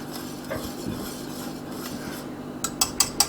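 Polenta being stirred in a pot, a steady soft scraping and rubbing of the spoon against the pot, ending with a few sharper taps of utensil on metal near the close.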